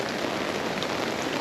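Rain falls steadily on a rubbishy day by the beach, a dense, even hiss of drops pattering on surfaces, close and continuous with no voices.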